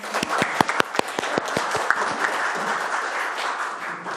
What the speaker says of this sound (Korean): 우리 함께 축하 박수를 부탁드립니다